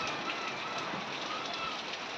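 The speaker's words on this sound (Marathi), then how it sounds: "चांगलाच पाऊस यायला लागला आता" Heavy rain pours down outdoors as a steady, dense hiss of drops that stays unbroken and fairly faint throughout, with nothing else standing out.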